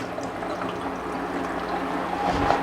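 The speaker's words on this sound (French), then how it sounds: "On vide l'eau." Water is poured out of a measuring cup in a short, steady splashing stream at close range, with no talking.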